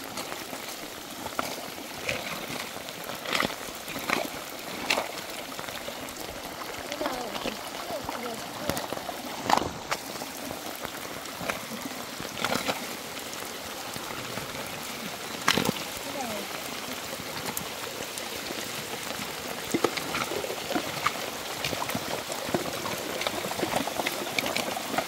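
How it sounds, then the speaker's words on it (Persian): Heavy rain with very large drops falling at a remote rural house, a dense continuous patter with occasional louder splashes, steady throughout with some voices faintly present underneath. "بارون با دونه های خیلی درشت داره میباره"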